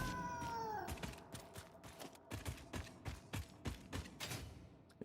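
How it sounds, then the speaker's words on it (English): Repeated cat meows from creepy in-game cats in the factory-building game Satisfactory, a string of short cries at a steady, uneven rhythm over a low background hum. "Creepy cats."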